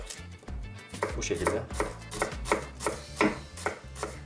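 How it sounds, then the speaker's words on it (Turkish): Onions being coarsely chopped with a knife on a board, a steady run of about eight sharp, evenly spaced blade strikes, close and clear, with a few brief spoken words at the start. "Soğanlarımı da yine aynı şekilde iri kıyım doğrayacağım."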